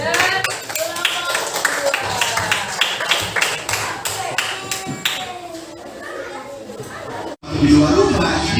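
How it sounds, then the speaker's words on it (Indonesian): A classroom group claps for fellow students after they present: dense, rapid clapping from many hands with children's voices chattering underneath, then a short break and a burst of talk. "Tepuk tangan untuk Yuda dan kelompok"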